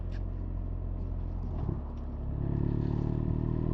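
A 2026 BMW R1300RS motorcycle at steady throttle makes a smooth quick-shifter gear change, its engine a continuous loud drone that dips briefly and then rises with wind noise, and no voice is heard.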